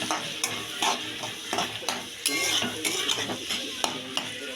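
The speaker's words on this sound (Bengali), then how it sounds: "জিরে গুঁড়ো দিচ্ছি একটু হলুদ দেবো নাড়াচাড়া করছি" Bottle gourd with cumin powder and turmeric is stirred in a hot pan, a steady sizzle broken by repeated sharp scrapes and clinks of a utensil against metal, close and fairly loud, with no voices.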